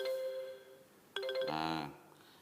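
A phone rings with an incoming call, a faint electronic tone followed by a brighter burst of ringing that fades out, heard quietly in a room.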